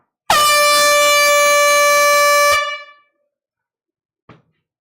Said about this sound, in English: Here comes the air horn.